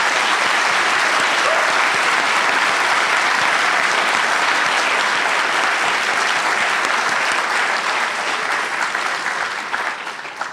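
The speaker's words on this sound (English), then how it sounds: "let's give a big round of applause to our panel." A lecture hall audience gives the panel sustained, dense applause, loud and even throughout before easing slightly near the end.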